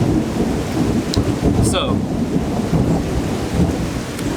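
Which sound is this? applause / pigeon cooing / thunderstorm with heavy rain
thunderstorm with heavy rain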